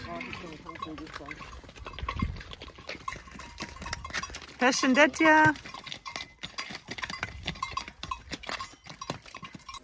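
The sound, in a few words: pack horse hooves clip-clopping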